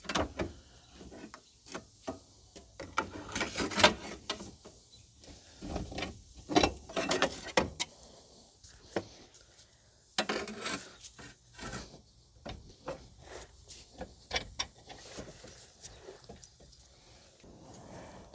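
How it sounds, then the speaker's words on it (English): Repeated metallic clanks and knocks of a 36 inch pry bar levering at the lower ball joint of a 2011 Subaru Outback 2.5, irregular sharp strikes and scrapes spread across the stretch, close and fairly loud with pauses between efforts. "So I'm just using a 36 inch pry bar."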